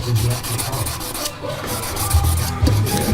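Abrasive paper rubs back and forth over the frets of a 1978 Martin HD28 acoustic guitar during a refret. The scratchy strokes are steady and close, with a rhythmic swell and fade.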